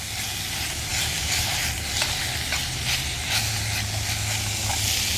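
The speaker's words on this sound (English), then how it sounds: "that is bacon sizzling." Bacon sizzles and pops in a canteen cup, a steady loud frying hiss with scattered crackles throughout, no voices.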